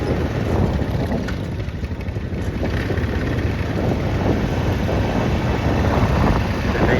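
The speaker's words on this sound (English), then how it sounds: "It's just windy out here." Strong wind buffets the microphone outdoors on open farmland while cattle are moved, a loud, continuous rumbling roar with gusty swells and no talk.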